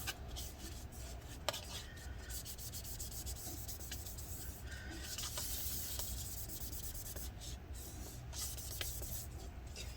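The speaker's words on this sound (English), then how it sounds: "I'm gonna use one more bit of paper towel, a little bit more rubbing alcohol, and let's go ahead and clean off the remainder" A paper towel dampened with rubbing alcohol is rubbed over the case of a 13-inch Early 2015 MacBook Pro A1502, a continuous soft close scrubbing rustle with small ticks and taps, faint and with no voices.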